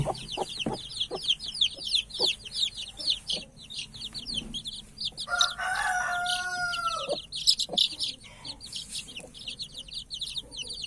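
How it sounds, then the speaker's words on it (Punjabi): An Aseel hen clucks softly amid a constant stream of high, rapid peeping from many newly hatched chicks, with a rooster crowing partway through and faint farmyard background. "ਆਪਣੇ ਮੁਰਗੀ ਨੇ ਬੱਚੇ ਕੱਢ ਲਈ"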